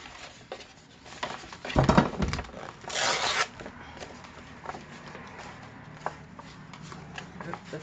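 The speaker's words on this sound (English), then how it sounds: "So we'll rip it like this." A paper file folder is torn by hand, giving a few short ripping bursts around the middle, including one longer bright tear, mixed with light handling rustles and a person talking quietly.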